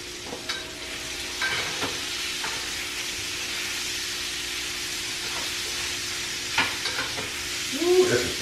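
A steak fries in a pan for a home-made steak and egg breakfast, giving a steady, fairly soft hissing sizzle with occasional pops and crackles and a faint kitchen hum.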